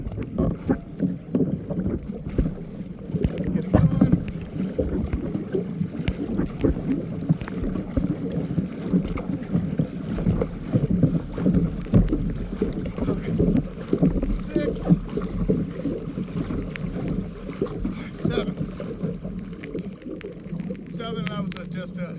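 Steady paddle strokes on a kayak fitted with an electric assist jet, water sloshing and splashing continuously near the microphone with wind buffeting throughout, no talk.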